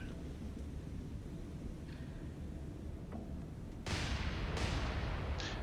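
Naval guns firing in the naval combat game War on the Sea, a few faint distant thuds followed by two louder broadband blasts over steady ship rumble, with no talking.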